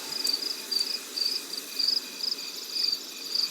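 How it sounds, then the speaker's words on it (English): Crickets chirp in a game scene from Life is Strange Remastered, giving a steady series of short, evenly spaced trills against a quiet background. "You should be able to hear the crickets."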